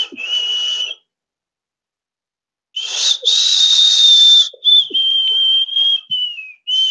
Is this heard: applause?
no